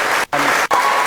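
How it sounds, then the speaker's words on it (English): Applause from an audience at an Oxford Union event, steady and loud, broken by two brief gaps where it drops out before resuming. "How long was that applause?"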